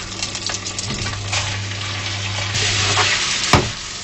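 Steady, close sizzling of pasta and garlic frying in a hot pan, with scraping and stirring sounds and a sharper clatter near the end.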